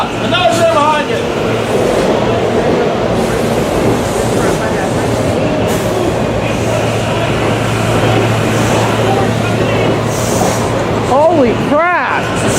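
Back-to-back trains at Jenkintown station rumbling past with a steady heavy roar, horn blasts near the end, and excited voices shouting over the noise.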